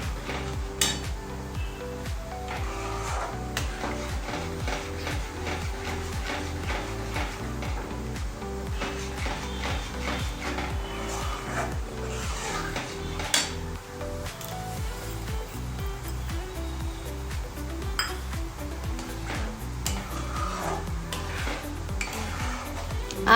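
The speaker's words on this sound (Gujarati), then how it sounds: "હવે એને હલાવતા રહીશું." A spoon scrapes repeatedly around a thick kadai as puran poli filling of sugar and jaggery is stirred, a close, steady rhythm of scraping strokes and light metal clinks with no talking.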